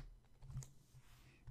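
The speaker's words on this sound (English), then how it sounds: "I can actually go to quotes and type in Maya Angelou" A few computer keyboard keystrokes, with a couple of clearer clicks in the middle and a soft tap at the end, as a search term is typed into a graphic design tool; faint and close, with no talking.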